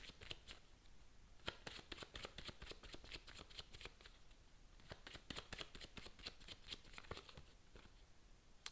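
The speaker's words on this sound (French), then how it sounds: "Je vais tirer une dernière carte pour voir vers quoi vous allez" Tarot cards being shuffled and drawn, a steady run of crisp riffling flutters and soft slaps of card edges, close and fairly quiet, with no talking.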